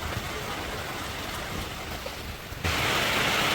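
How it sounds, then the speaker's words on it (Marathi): Heavy rain falls in a rural village, a steady broadband hiss that suddenly grows louder and denser near the end as the downpour intensifies; no one speaks. "लयच पाऊस वाढला भरपूर हे बघा"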